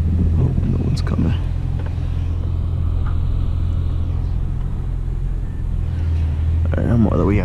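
A 2003-2018 Toyota 4Runner with newly replaced rear brake pads is out on a test drive, its engine and road noise forming a steady low rumble heard from inside the cabin, with a person talking over it at times.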